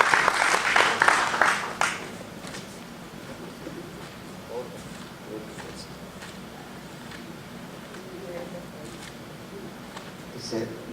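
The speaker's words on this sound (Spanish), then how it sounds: "Démosle palmas al Señor" A church congregation claps briefly in praise of the Lord as a brother comes up to read a chapter during a sermon, a short burst of applause lasting about two seconds, followed by quiet room noise and faint movement.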